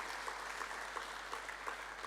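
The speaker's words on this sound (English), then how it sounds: "Can we clap hands" An audience at a national conference claps for a speaker, a faint but continuous patter of many hands throughout the brief moment.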